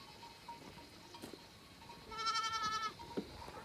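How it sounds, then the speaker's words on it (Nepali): A young goat kid bleats in a quavering, wavering cry near the middle, with soft earlier calls and small knocks around it in a quiet rural setting at high altitude. "बाख्रा पाठा हो"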